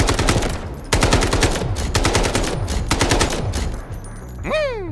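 An AK rifle in the shooter game Delta Force fires several sharp, loud automatic bursts up close, each a rapid string of cracking shots, followed by a short rising mechanical whine at the end.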